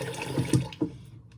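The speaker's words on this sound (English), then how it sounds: "Rinse that out. Then pat dry again." Water splashing as a face is rinsed during an at-home facial, with a few quick close splashes and running-water wash over a second or so.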